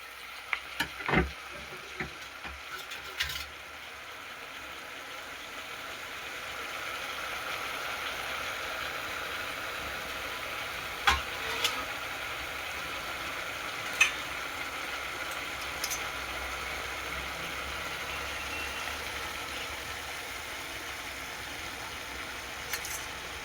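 Kanjara leaf bhaji cooks in a pan with a soft, steady sizzle that settles in after a few scattered clicks and taps early on, then holds at a low, even level with an occasional faint tick.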